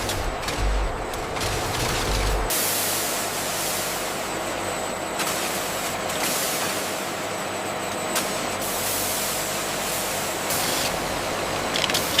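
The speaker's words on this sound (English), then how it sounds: "Food-safe sprays provide additional protection." Food-safe sprays inside a coconut sanitizing tunnel at a large coconut factory give a loud, continuous hiss with pulsing surges over a low machinery hum. No voices.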